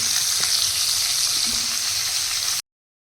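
Fish pieces fry in hot oil in a pan with a loud, steady hissing sizzle, close and unbroken, until it cuts off suddenly near the end.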